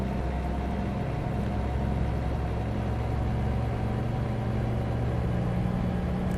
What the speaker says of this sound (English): So I need to listen to the engine to hear when it's a good time to shift gear.